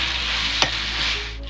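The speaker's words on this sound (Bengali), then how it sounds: "পেঁয়াজটা ভেজে নিচ্ছি" Onions with ginger paste frying in a pan for chicken biryani gravy, a loud, even, close sizzle with one sharp stirring scrape midway.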